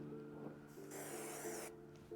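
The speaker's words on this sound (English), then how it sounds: "So Marcela's pro tip is use spray adhesive. You just put a small layer" A can of spray adhesive hisses in one steady, close burst lasting under a second, over a low humming background, outdoors in winter while a drain is installed.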